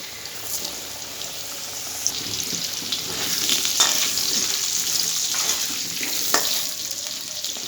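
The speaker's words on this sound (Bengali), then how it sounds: "দিয়ে দেবো কালো জিরে, দিয়ে আলুগুলো ভেজে নেব" Potatoes fry in hot oil with black cumin seeds, a steady close sizzle with occasional stirring scrapes and bursts of spattering throughout.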